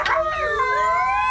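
Dogs howl at night in a long, wavering, siren-like wail that rises and bends, loud and close, with no speech.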